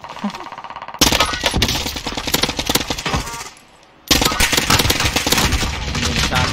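AN-94 rifle fired in Warzone, two long bursts of loud, close rapid gunfire separated by a short quiet gap.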